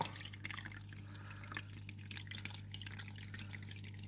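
Water trickles and drips steadily through the river stream of a mixed species aquarium, soft and fairly quiet over a constant low pump hum, with no voices.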